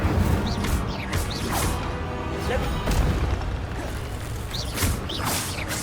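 A fire spell cast in Hogwarts Legacy during a fight against several brutes: dense whooshing bursts and booming impacts crackle and flare repeatedly over a constant loud bed of game combat noise.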